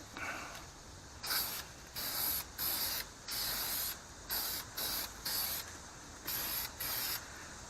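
Repeated spray-can bursts of high-heat paint coating brake calipers, about nine short hissing blasts of roughly half a second each with brief pauses between, steady and close with no talking.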